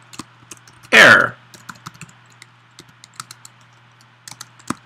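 Keys tap on a computer keyboard in sparse, close individual clicks, with a brief voice burst early on.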